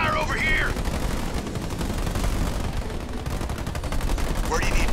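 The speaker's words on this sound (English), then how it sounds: "We're under fire over here!" Sustained gunfire in the sci-fi strategy game Halo Wars 2, a dense continuous battle din of rapid shots and bursts with game voice lines briefly heard.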